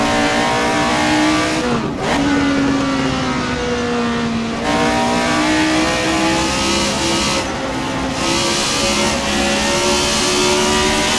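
A 1976 McLaren M23 race car engine screams in Assetto Corsa, revving hard through gear changes with brief dips and climbs in pitch, loud and close throughout, no talking.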